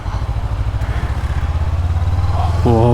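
A 2021 BS6 Honda 500X motorcycle engine runs steadily and loud up close on a test ride, with a rising pitch toward the end as it accelerates.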